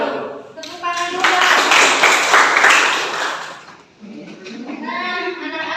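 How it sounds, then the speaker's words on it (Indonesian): Group applause in a classroom, a steady burst of clapping that swells and then fades, with children's voices chattering around it before and after. "Tepuk tangan dulu."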